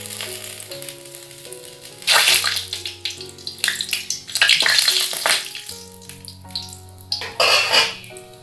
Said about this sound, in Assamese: গৰম তেলত মই প্ৰথম ইলাচিকেইটা দি ল'লোঁ। তাৰপিছত তেজপাত 2টা দিলোঁ।